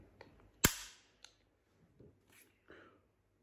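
A handgun being loaded in a pistol versus revolver comparison, with one sharp metallic snap followed by several smaller, quieter clicks and handling sounds, close up and with no talk.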